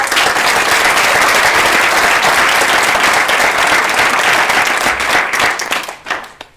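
Loud, sustained applause from an audience at the Do the Right Thing Award ceremony in January 2019, a thick, steady wash of clapping that thins to scattered claps at the end.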